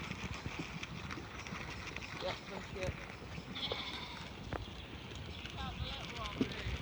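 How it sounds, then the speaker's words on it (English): Sheep and lambs, including Suffolk cross and Leicester Longwool, bleat faintly at a distance on a farm, with scattered hoof sounds and a person talking over the outdoor background. "And here's a few of our lambs."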